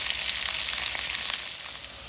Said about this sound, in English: You're gonna cook these sweet potatoes until brown,